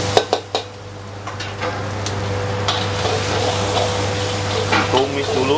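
Garlic and spring onion are stir-fried in a pan, opening with a few sharp clanks of a utensil against the pan, then a steady, moderate sizzle over a low background hum.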